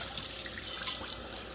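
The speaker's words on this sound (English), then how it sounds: "Rinse out the pot" Tap water runs steadily into a pot being rinsed out while making yogurt, a continuous close splashing hiss with no talk.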